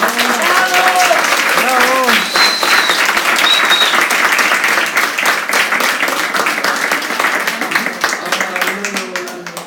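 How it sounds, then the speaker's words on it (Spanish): An audience applauds steadily and loudly at a live drawing event, a dense patter of claps with cheering voices over it early on, fading slightly toward the end. "Un aplauso. ¡Bravo!"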